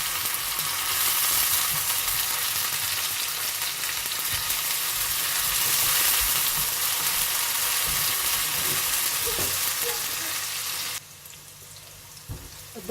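Ginger garlic paste and cumin fry in a pan over medium flame, giving a steady loud sizzle that drops suddenly near the end, with faint stirring scrapes.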